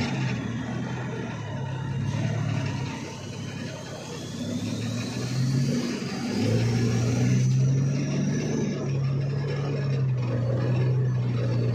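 A vehicle pulls forward in a tight spot, its engine rising and settling in slow revs at close range with no talking.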